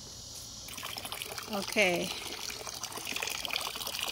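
Rainwater pouring and trickling into a Tower Garden, a continuous hissing flow with a short spoken word partway through.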